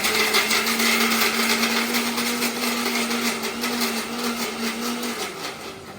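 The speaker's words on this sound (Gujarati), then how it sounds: "હવે આને મિક્સરમાં પાછો 1-2 આંટા ફેરવી લેવાના." A kitchen mixer grinder whirs loudly and close for a few seconds, blending sattu powder into a fine mix, a steady high-pitched motor whine that slowly winds down near the end, with no talking.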